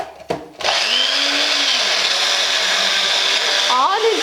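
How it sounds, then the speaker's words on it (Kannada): A mixer grinder whirs loudly as it blends mango ice cream mixture at home, a steady high-pitched motor roar that starts abruptly after a brief clatter and holds at full volume to the end. "ಇವಾಗ ಮಿಕ್ಸಿ ಮಾಡೋಣ."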